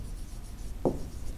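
Handwriting on paper sounds as a faint scratch of a pen or pencil, with one short, more distinct stroke mid-clip over low room hum and no talk.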